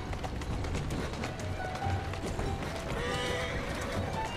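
A horse pulls a carriage through London streets in Assassin's Creed Syndicate, its hooves clip-clopping in a quick galloping rhythm under rolling wheel noise, with a whinny and game sounds layered in.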